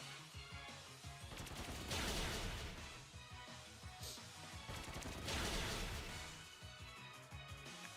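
Pin Missile attack from Pokémon Sword: a dense, loud barrage of rapid popping impacts that swell in two waves, like a volley of gunfire, with no one speaking.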